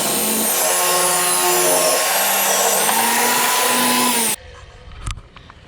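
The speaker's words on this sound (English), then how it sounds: "So I'm going to cut a strip down 2 3/4 over on the table saw" A table saw rips a long strip of pallet-scrap wood with a loud, steady whine for about four seconds, then cuts off abruptly and a brief knock follows.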